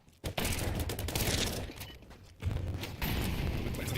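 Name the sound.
gunfire in the video game Counter-Strike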